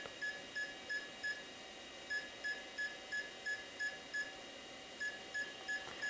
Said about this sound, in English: I'm sure those beep codes mean something.